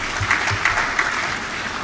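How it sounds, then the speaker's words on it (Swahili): An audience at a Sabasaba trade fair gathering in Zanzibar claps steadily, a short burst of even applause with a few sharper claps standing out. "Naomba tuongeze tena makofi mengi."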